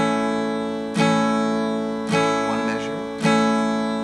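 Guitar strumming chords in a 12-bar blues progression in A, with a few sustained strums falling roughly once a second and some lighter picked notes in between, steady and fairly close.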